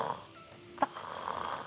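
A voice imitates heavy, severe snoring, the kind of obstructed-airway sleep snoring a doctor warns about. One short harsh snort stands out in a quiet, faint stretch with no talking.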